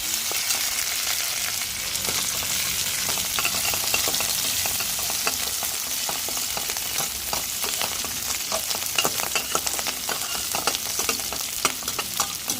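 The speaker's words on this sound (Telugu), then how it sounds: "మొత్తం బాగా ఫ్రై చేసేసుకున్నాం" Food fries in hot oil in a pan, giving a dense, even sizzle with crackling pops and occasional stirring scrapes, close and steady throughout with no talking.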